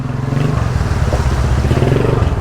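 A motorcycle engine drones steadily nearby, a loud low rumble with no pauses.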